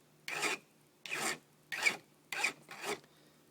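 A steel knife blade being filed by hand sideways across its edge during repair of a broken tip: five even rasping strokes, each about a quarter second long, close and clear with short pauses between them.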